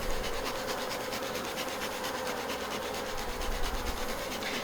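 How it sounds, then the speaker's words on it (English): Honeybees swarming in a crowded hive box, a continuous dense buzzing hum heard close and fairly quiet, steady throughout with no talk. "And there's still quite a lot of bees,"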